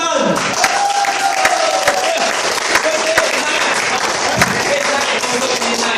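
An indoor audience applauds to welcome a speaker at a training event, with dense continuous clapping and a few scattered shouts throughout, while a voice talks faintly underneath.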